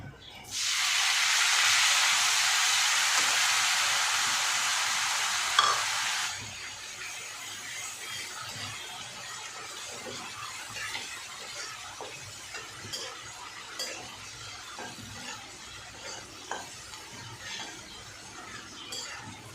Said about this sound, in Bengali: কারি পাতাটা ভাজা হয়েছে